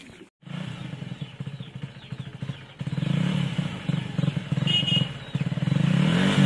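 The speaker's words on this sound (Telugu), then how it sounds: "ఆ బండి సౌండ్ నా బండి సౌండ్ కొంచెం వేరే వస్తుందిగా." A motorcycle engine runs close by at a Dussehra celebration, a low pulsing chug that swells louder partway through, with faint background noise and no clear talk.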